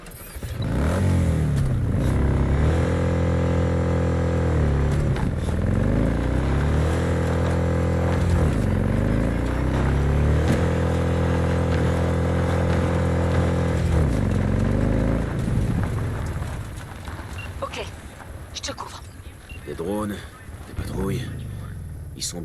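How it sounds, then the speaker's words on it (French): Motorcycle engine in the video game Cyberpunk 2077, revving up and shifting through gears in repeated rising sweeps, loud and close, then easing off to a quieter idle with clattering near the end. "Je vais prendre ma moto."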